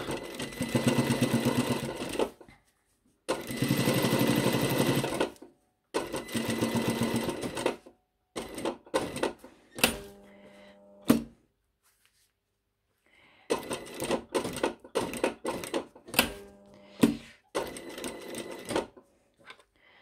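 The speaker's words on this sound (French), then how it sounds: "je me fais une petite piqûre autour" A sewing machine stitches around a decorative piped pocket in several loud, close runs of rapid needle chatter lasting a few seconds each, separated by pauses and short clicking bursts.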